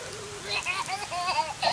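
Steady rain falls outdoors as a continuous hiss, with a voice and other talk rising over it.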